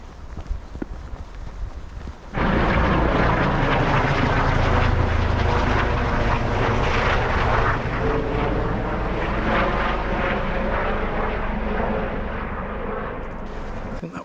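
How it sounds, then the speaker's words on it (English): A police helicopter passes over a quiet Peak District moorland trail near Alport Castles, its engine and rotor roar rising abruptly and holding as a loud, steady drone before easing slightly toward the end. "I think that was the police helicopter"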